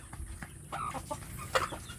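Free-range village chickens cluck in short scattered calls, some nearer and louder than others, over a low farmyard background with no one talking.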